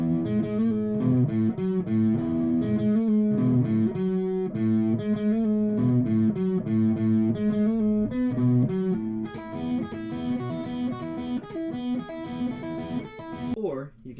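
Wiseman electric guitar played through effects, a dense run of strummed and picked chords with heavy processed tone, loud and continuous for about fourteen seconds with no talking.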